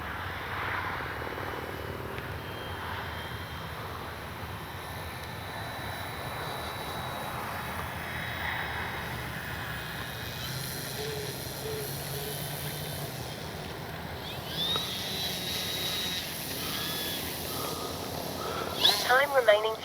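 Flex Aviator 40E electric RC airplane flying and coming in to land with landing flaps down, a steady distant whine under outdoor wind noise, growing briefly louder near the end.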